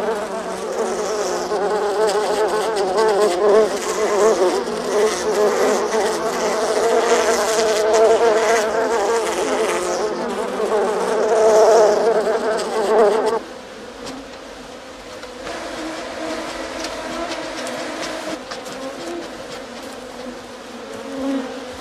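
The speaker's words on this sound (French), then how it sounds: "Des abeilles tueuses? En Californie?" Dense, steady buzzing of a swarm of killer bees in California, loud and continuous throughout, dropping somewhat in level about two-thirds of the way through but still droning on.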